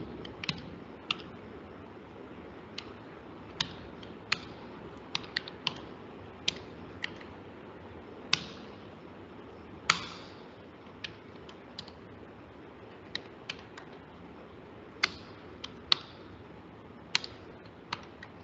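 Assembly code being typed on a computer keyboard, irregular bursts of light key clicks with occasional louder taps, close and quiet with no voices.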